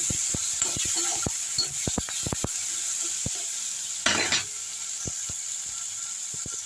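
Onions sauté with turmeric powder in a hot pan for South Indian mor kuzhambu, with a steady high hiss, scattered crisp pops, and a brief louder burst of sizzling midway.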